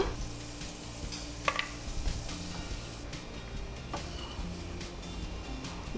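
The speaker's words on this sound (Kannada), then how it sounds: "ಸ್ವಲ್ಪ ಕಂದು ಬಣ್ಣ ಬರ್ತಾ ಇದೆ ಅಂದಾಕ್ಷಣ ದ್ರಾಕ್ಷಿಯನ್ನು ಹಾಕ್ಕೊಳ್ತಾ ಇದ್ದೀನಿ. ಈಗ ಇದು ಫ್ರೈ ಆಯಿತು." Raisins fry in ghee in a pan for wheat flour halwa, giving a steady, soft sizzle with a few light clinks of a spoon against the pan and no talking.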